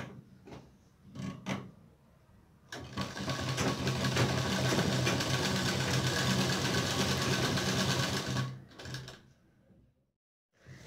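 A sewing machine stitches the side seam of a padded blouse in a steady, close, loud mechanical whir that runs about six seconds, framed by short bursts of handling and machine clatter before and after.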